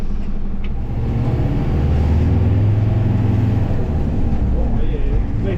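An old camper van's engine revs up toward its 2,500 RPM red line, a loud, steady low drone and rumble heard from inside the cab, with someone talking over it.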